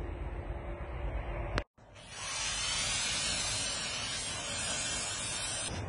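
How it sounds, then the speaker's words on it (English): A steady hissing aerosol spray of cleaner on Cummins 24-valve diesel engine parts, close and loud, runs almost continuously, broken by one short pause early on before spraying resumes. "I'll spray them down, clean them up"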